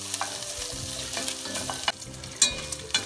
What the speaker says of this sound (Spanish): No puse nada de aceite, como vieron, porque el tocino va a soltar grasa.